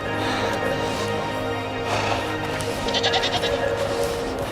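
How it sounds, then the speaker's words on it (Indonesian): A herd of goats bleats on a mountain trail, several overlapping calls rising over steady outdoor background noise, fairly close. "Lihat kawanan kambing."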